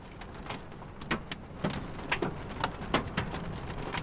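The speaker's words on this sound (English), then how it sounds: "Yeah, you have some hail going on." Hail and heavy rain pound down during a tornado storm near Gilmore City, Iowa, a dense steady roar broken by sharp repeated impacts, loud and close, with no talking.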